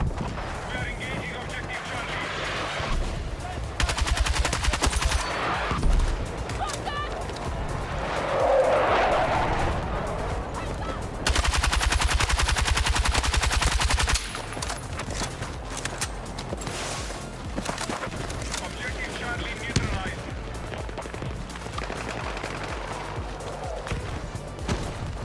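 Gunfire in the video game Battlefield 6, shots and bursts scattered across a busy battlefield mix with vehicle rumble and louder stretches of noise, moderately loud against the game's background.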